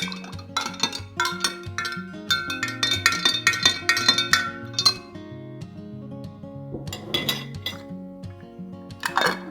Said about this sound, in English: I'm just gonna take about a tablespoon, nice little glob here, and mix it in